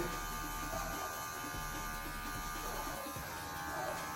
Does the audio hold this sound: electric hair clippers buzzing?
yes